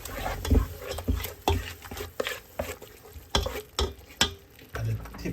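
Spoon scraping and stirring tomato puree into frying rice for jollof rice in a pan, irregular clacks and scrapes over a faint sizzle of frying.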